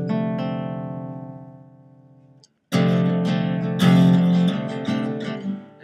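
Acoustic guitar chords from a song: one strummed chord rings and fades over two seconds, then after a short silence more chords are strummed in quick succession, close and fairly loud.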